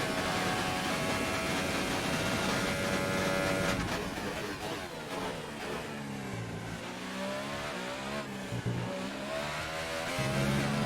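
F1 car engine in a racing video game around Abu Dhabi, revving and accelerating under gentle throttle out of a corner, a continuous loud whine with pitch sweeps and gear-shift dips, filling the whole stretch.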